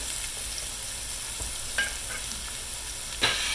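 Vegetables sautéing in a pan as a steady, fairly quiet sizzle, with two or three brief scrapes of a utensil against the pan.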